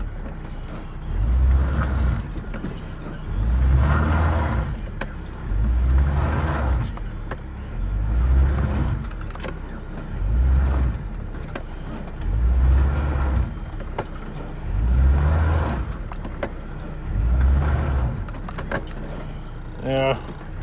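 A stuck car is rocked out of a rut, its engine revving in repeated low surges about every two seconds, steady and close with a rumbling idle between pulses.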